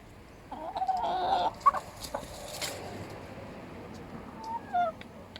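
A Malines cuckoo hen, a young layer, gives a few agitated clucks and squawks in a farmyard coop, fairly close but not loud, with quieter background noise around.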